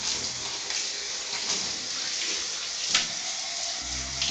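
Tap water runs steadily into a bathtub while a dog is rinsed, a continuous close splashing hiss with a brief surge near the end and no talking.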